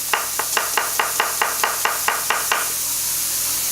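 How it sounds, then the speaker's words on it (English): A knife slicing a cucumber half into long, thin bias pieces on a cutting board, about ten crisp, evenly spaced chops in quick rhythm, close and clear, then stopping. "We can cut our other cucumber half here to some long, thin bias pieces."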